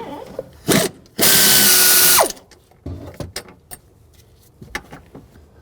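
A power tool with a T40 socket whirs loudly for about a second as it backs out a hook on a 2009–2010 BMW 535i xDrive during rear shock replacement, amid ratcheting clicks and scattered metallic handling noises.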